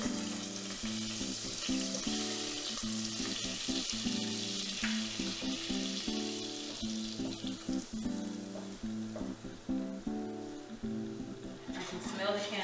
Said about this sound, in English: we're gonna melt down our cannabis butter